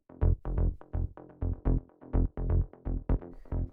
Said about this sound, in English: Next thing we have here is the bass, which sounds like this.